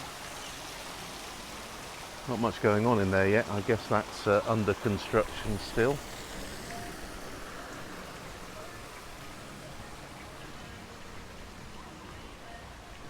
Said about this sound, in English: the water you can hear behind me is the water from the infinity pool